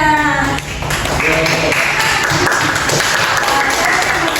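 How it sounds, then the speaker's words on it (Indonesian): Classroom applause during a practice teaching lesson in an Indonesian class, students clapping loudly together after a teacher's prompt, with a voice briefly heard at the start before the clapping fills the room. "Tepuk tangan dulu untuk Pina."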